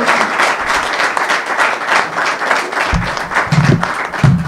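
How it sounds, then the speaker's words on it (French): Loud, sustained audience applause fills a press conference hall in honor of Koffi Olomide, a dense wash of clapping with some low crowd rumble rising near the end. "j'aimerais qu'on applaudisse très très fort"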